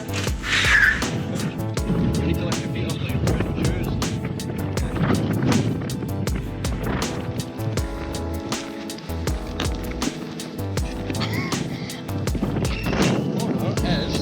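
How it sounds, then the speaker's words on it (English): A cheap longboard's wheels roll steadily on pavement with rhythmic clacks over cracks, a constant rumble mixed with wind noise. "Skateboarding."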